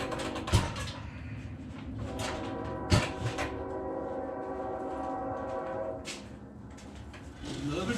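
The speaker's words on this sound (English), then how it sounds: "Love a train." A train rolls past at the Tehachapi Loop, giving a steady, sustained rumble with droning engine tones and a few sharp metallic clanks along the way.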